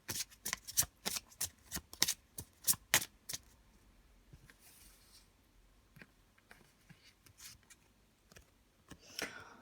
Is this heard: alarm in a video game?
no